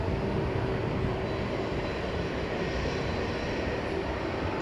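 A plane taking off at night on runway 18 left at DFW Airport, heard as a steady, broad, distant jet engine roar that holds at an even loudness throughout, with no speech.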